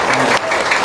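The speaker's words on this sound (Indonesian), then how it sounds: "Tepuk tangan yang kenceng" A short burst of dense audience clapping, loud and sustained for under a second.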